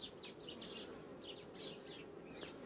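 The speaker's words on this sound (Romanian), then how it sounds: "Deci lucrează albinuțele." Honey bees hum softly around a hive during a sunflower honey flow, a faint steady drone outdoors with thin bird chirps and no talking.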